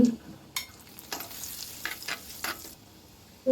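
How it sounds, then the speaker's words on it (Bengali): Chopped ginger and garlic frying in oil, a low crackling sizzle broken by a few scraping stirs of a spoon against the pan, with no voices. "এখানে আমি অল্প একটু আদা কুচি নিয়েছি লাল করে ভাজবো"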